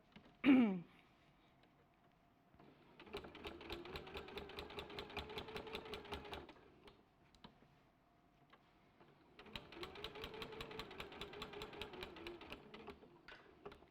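A sewing machine quilts around a pinwheel block in two steady runs of rapid mechanical stitching, each lasting a few seconds with a quiet pause between, after a sharp click at the start.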